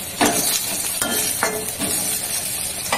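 Whole cumin seeds and green chillies frying in hot oil, a close crackling sizzle broken by several sharp spitting bursts at uneven intervals, with light stirring scrapes and no speech.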